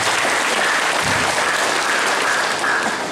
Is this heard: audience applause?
yes